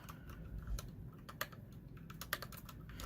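Keystrokes on a Cherry MX keyboard fitted with rubber keycaps: scattered, soft, muted clicks at an uneven pace, close and fairly quiet, with no voices.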